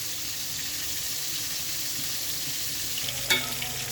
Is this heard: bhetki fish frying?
yes